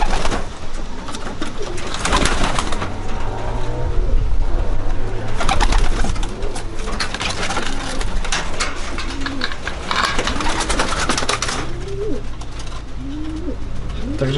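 Racing pigeons coo repeatedly in a loft, overlapping soft guttural calls with a steady background of flapping and shuffling, fairly close and continuous throughout.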